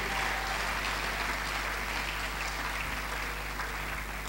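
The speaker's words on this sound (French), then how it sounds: "acclame la parole de Dieu" A church congregation applauds in a steady, dense wash of clapping that holds at an even level throughout.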